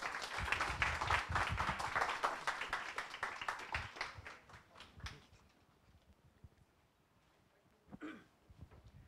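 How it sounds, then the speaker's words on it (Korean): A conference audience claps to welcome a student speaker: brisk applause for about five seconds, then fading into near quiet with a brief stray sound near the end. "박수 맞아주세요."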